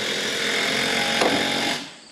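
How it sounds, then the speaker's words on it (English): A power drill runs steadily and loud while metal roofing goes onto an off-grid cabin, holding one continuous whine before trailing off near the end. "Keeps running the drill."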